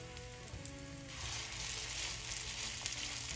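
Potato cakes frying in corn oil give a steady, dense sizzle that swells louder after the first second and holds as an even crackling hiss, with no talk over it.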